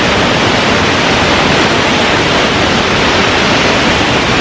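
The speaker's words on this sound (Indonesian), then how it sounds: "Dan berisik banget kan suaranya. Maklum lah namanya juga air terjun." A waterfall roars with a loud, steady broadband rush of crashing water, constant and close, with no talking.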